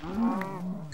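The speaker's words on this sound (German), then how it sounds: "Kühe." Cattle lowing in the video game Minecraft, a single drawn-out moo heard close and fairly loud on its own without talk.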